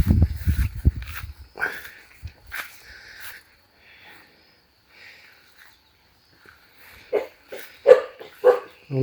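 Several dogs bark at a building site where a donated room is being repaired, a flurry of loud barks at first, then a pause and more barks closer, with some voices.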